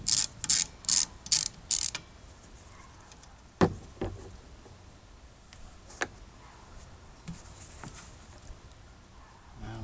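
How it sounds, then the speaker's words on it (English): A ratchet wrench with a 14mm socket turns the nut holding the windshield wiper arm on a 2013 Toyota Prius V, heard as five quick, close ratcheting bursts at the start, then scattered light clicks and knocks. "And this is a 14mm socket that I'm using."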